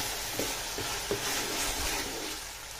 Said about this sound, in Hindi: अदरक लहसुन पेस्ट को भी अच्छे से फ्राई करेंगे।